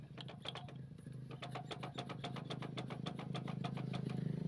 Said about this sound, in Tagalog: may kakaibang tunog po na lagatok sound yung makina na ito